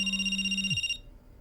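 A phone rings with a bright electronic tone over a low hum, a short steady burst that cuts off abruptly, followed by near silence.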